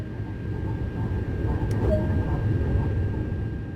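High-speed TGV train on an LGV line in Train Sim World 2, a steady low rumble and hum of the train in motion with a faint tonal whine, continuous and even throughout.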